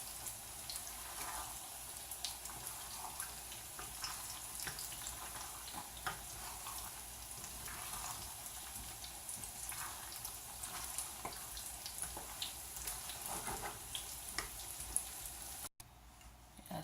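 Plantain frying in a pan at home alongside beans, a faint steady sizzle and crackle with scattered small pops, heard from close by with no talking.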